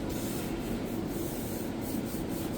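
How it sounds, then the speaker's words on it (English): Steady close-up rubbing of sandpaper across a kitchen cabinet door, a continuous gritty hiss with faint rhythmic strokes, fairly quiet and with no voices. "I'm gonna double check the sanding on this one."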